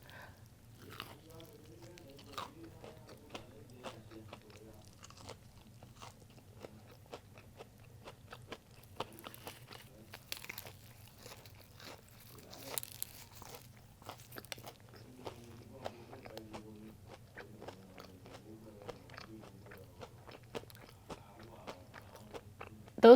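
Crunchy, oversized A&W onion rings being eaten close to the mic, with repeated bites and wet chewing crunches in an irregular rhythm against a quiet background for over twenty seconds.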